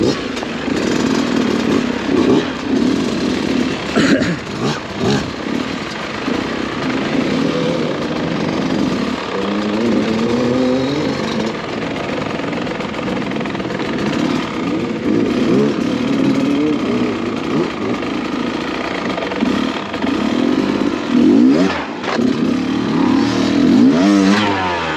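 An enduro motorcycle engine on a woodland trail, droning loudly and steadily throughout, with its pitch rising and falling as the throttle is worked and occasional harder revs.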